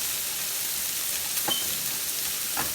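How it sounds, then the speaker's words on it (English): Burger patties for bacon, egg and cheese burgers sizzle and crackle steadily in a hot pan, close up, with a couple of brief stirring clinks over the constant hiss. "we got a good little sizzle going off up in that thing"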